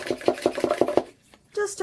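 A rapid run of knife chops through basil leaves on a cutting board, about six even strokes, followed by a brief pause and a voice speaking.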